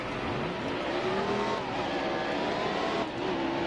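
A race car in NASCAR Heat Evolution spinning out at Richmond, its engine whining and pitching up and down with a brief tire squeal against the steady roar of other cars on track.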